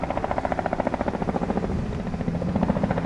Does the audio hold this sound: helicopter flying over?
yes